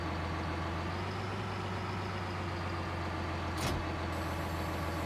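Tractor engine idling in Farming Simulator 19, a steady low diesel chug with a rhythmic throb, close and even, briefly interrupted by a short sharp click or thud near the end.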